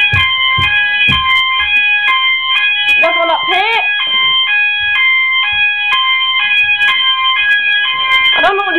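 Loud electronic Viper fire alarm sounders ring in a repeating stepped two-tone pattern, with a few knocks and a brief warbling tone partway through.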